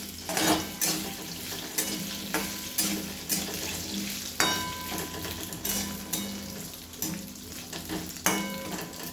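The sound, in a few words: stirring potatoes and chutney for sabudana khichdi in a pan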